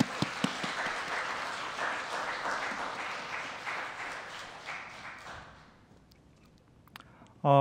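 Congregation applauding in a church, a steady mass of clapping that holds for about five seconds and then thins out to near silence, with a few scattered claps at the very end.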